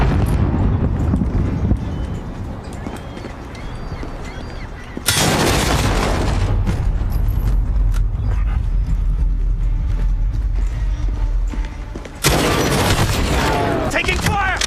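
Call of Duty Modern Warfare multiplayer on PC erupts in rapid gunfire bursts and heavy booming explosions, loud and continuous, with radio voice callouts mixed over the battle noise.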